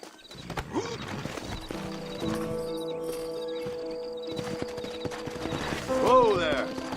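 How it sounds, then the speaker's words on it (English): Horse hooves clip-clop in Red Dead Redemption, a quick rhythmic trot under gameplay music and voices, with a horse whinnying near the end. "Horses are over here!"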